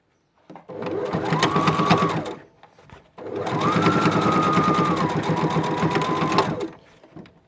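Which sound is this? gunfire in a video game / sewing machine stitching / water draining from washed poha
sewing machine stitching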